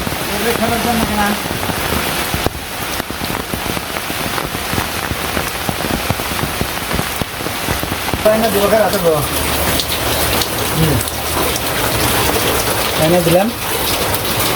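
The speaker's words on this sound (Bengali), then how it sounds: "এখন ঝড়টা অনেক বেড়ে গেছে" Storm rain hammers down without pause on village surfaces, a loud, close, continuous roar of drops, with occasional voices faintly heard beneath it.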